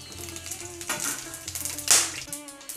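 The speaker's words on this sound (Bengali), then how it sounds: "এবার গোটা জিরে দিয়ে দিচ্ছি" Whole cumin seeds hit hot mustard oil in a pan, giving a light crackling sizzle with scattered pops and one sharper burst of spattering near the end, with no talking.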